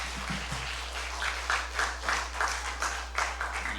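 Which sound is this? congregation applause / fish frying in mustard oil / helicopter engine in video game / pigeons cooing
congregation applause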